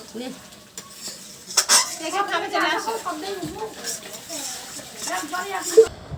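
Pots, pans and utensils clatter and scrape while goat meat cooks, with stirring and a faint sizzle underneath, close by, as people talk over the cooking.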